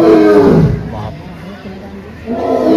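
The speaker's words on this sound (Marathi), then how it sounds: "बघा सिंह गर्जना" A lion at Sakkarbaug zoo in Junagadh lets out a deep, rumbling roar that swells at the start and rises again at the end, heard fairly close over a faint murmur of visitors.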